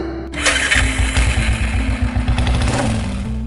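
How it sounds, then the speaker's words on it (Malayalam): A Royal Enfield Bullet motorcycle is started on a house porch, kicking into life and then settling into a loud, close, thumping idle with its distinctive slow, even beat. "സൂര്യൻ വരാന്തയിൽ നിന്നും പോർച്ചിലേക്ക് ഇറങ്ങി ബുള്ളറ്റ് സ്റ്റാർട്ട് ചെയ്തു"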